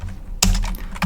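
A short burst of keystrokes on a computer keyboard while entering git commands in a terminal, a loud cluster of clicks starting partway in and another near the end, over a low steady hum.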